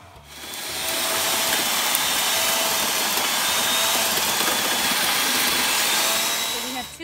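An Earthwise TC70001 11-inch corded electric tiller churning soil between asparagus rows, its motor whirring loudly and steadily for several seconds after spinning up.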